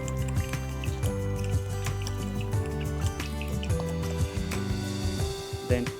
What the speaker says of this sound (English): You want roughly 250 mils of olive oil, but in saying that, add it little by little bit.